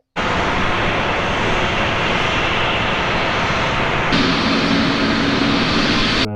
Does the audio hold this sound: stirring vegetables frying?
no